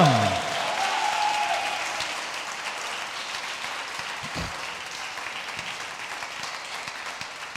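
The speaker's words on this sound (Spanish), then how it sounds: "Dale un aplauso fuerte" A Spanish-speaking church congregation applauds loudly in a dense, continuous wash of clapping that gradually eases in level, with a brief voice at the start.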